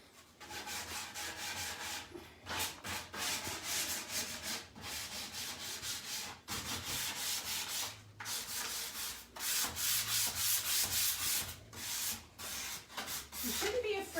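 Painted furniture being distressed with sandpaper makes a rhythmic scratchy rubbing in repeated strokes separated by short pauses, moderately close and alone with no talking.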